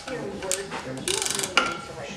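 Fasteners on a Ski-Doo 800 E-TEC clutch helix are snugged up by hand, giving faint, close metallic clicks and ratcheting taps in short irregular bursts.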